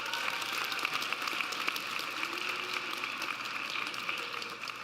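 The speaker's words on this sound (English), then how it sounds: "Give yourselves a round of applause," Graduates and guests at a school graduation ceremony clap together, a dense crackle of many hands with distinct individual claps popping through, steady throughout and easing slightly at the end.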